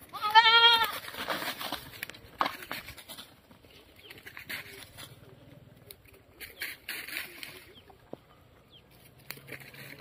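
Goats on a free-range meat goat farm let out a loud, wavering bleat at the start, then the scene settles into quieter rustling and faint farmyard noise with scattered bird calls.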